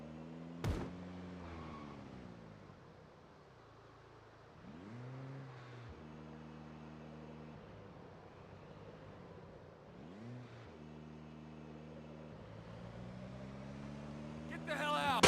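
A Porsche engine in Project Zomboid, rising and falling through several revs with harmonic whine, moderately loud, while a player talks over it.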